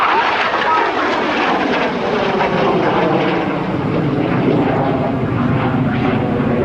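An F-86 Sabre jet flying an airshow demonstration over Dayton, Ohio, climbing in a vertical roll, gives a loud, continuous engine roar that rises and holds steady throughout with no pauses.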